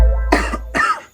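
A person coughs twice, two short harsh bursts spaced about half a second apart, close and fairly loud with no talking over them.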